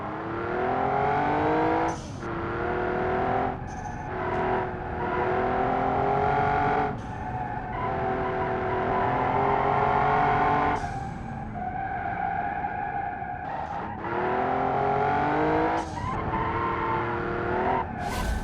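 Car engine in the BeamNG driving game revving and accelerating hard with electronic stability control switched off, a loud sustained roar that climbs in pitch through repeated gear changes, with short breaks between shifts and tire squeal.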